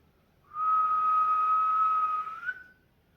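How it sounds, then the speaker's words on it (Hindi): A single steady human whistle, made by blowing a straight stream of air as a voice exercise, holds one clear high pitch for about two seconds before trailing off. It sounds close and alone against a quiet background. "सीटी बजाने का मतलब है आपको सांस भरनी है और यहाँ से लेकर यहाँ तक सीधा हवा फेंकनी है और फिर सीटी बजानी है जो कि होगी ऐसी।"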